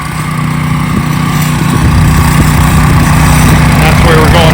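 A low-voltage wire trencher's engine runs loud and steady close by while digging in a large yard, a constant mower-like drone that never lets up.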